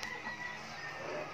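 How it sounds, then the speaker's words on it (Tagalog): Chickens cluck faintly outdoors, their short calls sitting low under a steady wash of ambient noise with no one speaking. "Yan yung mga manok."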